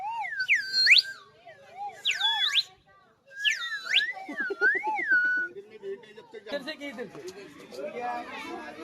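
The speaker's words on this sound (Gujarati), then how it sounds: "108 આવી ગઈ ઇમરજન્સી." A 108 emergency ambulance siren wails in loud, repeated rising-and-falling bursts, then gives way to voices and chatter.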